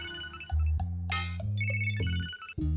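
A telephone rings through a call in a Hindi-dubbed South Indian comedy film, sounding a bright electronic ringtone in repeated melodic bursts, clear and close with no talk over it.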